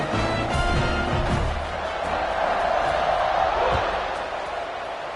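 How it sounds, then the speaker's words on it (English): A stadium crowd buzzes at a football game after a score, a dense, loud roar of many voices swelling and easing, with a commentator talking over it. "this crowd is buzzing after that last score"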